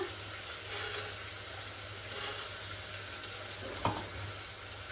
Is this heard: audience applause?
no